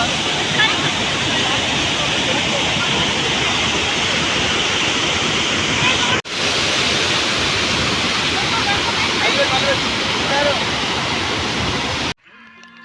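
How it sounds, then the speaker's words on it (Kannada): Bandaje Falls, a monsoon-season waterfall on a trekking route in Chikkamagaluru, sends out a loud, steady, close roar of rushing water. It runs unbroken for about twelve seconds before cutting off abruptly. "ನೋಡಿ ನಿಮಗೂ ತೋರಿಸ್ತೀನಿ ಫಾಲ್ಸ್ ಯಾವ ರೀತಿ ಇದೆ ಅಂತ"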